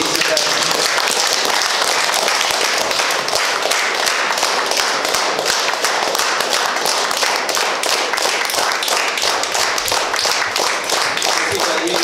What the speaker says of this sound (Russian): Давайте мы все поблагодарим нашего героя, нашего ветерана Виктора Алексеевича Попова аплодисментами.